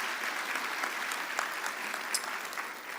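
Sustained applause from an audience at a Teacher of the Year award banquet, a dense, steady wash of many hands clapping with no pauses and no talk over it.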